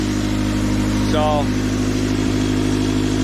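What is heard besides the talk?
car exhaust humming, engine running after crankshaft pulley repair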